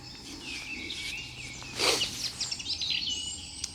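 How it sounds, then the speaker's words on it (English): Birds chirp and trill softly in the morning at a wild campsite, with thin high calls scattered through a quiet outdoor ambience and a brief louder burst midway. "It's wonderful listening to all the birds and the sounds in the morning."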